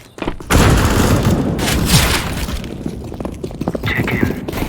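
Grenade explosion in a Counter-Strike: Global Offensive casual match on the Inferno map, a loud booming blast followed by a long rumbling, crackling tail with scattered gunfire-like impacts.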